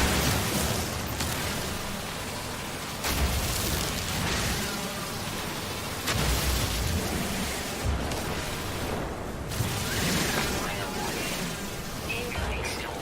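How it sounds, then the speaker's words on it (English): Stormy weather in No Man's Sky, with dense steady rain-like noise running throughout, broken by swelling rumbling bursts that recur every few seconds like thunder. "Incoming storm."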